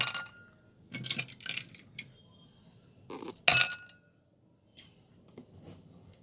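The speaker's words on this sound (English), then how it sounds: "I will first put few ice cubes." Ice cubes dropped into two drinking glasses for mango lassi, a few sharp clinks and rattles in short bursts with one loud clatter, close up and alone.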